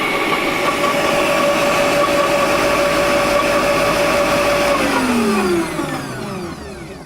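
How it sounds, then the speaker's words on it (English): Garden shredder grinding hedge-cutting waste with a large cog wheel, a loud steady mechanical whine with tonal hum that lowers and fades slightly toward the end, no voices. "There's like a big cob wheel grinding everything"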